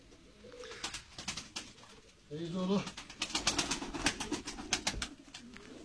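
Seferli tumbler pigeons coo softly nearby in Antalya in a low, throaty burst, with scattered sharp clicks and fluttering around it and a brief spoken word.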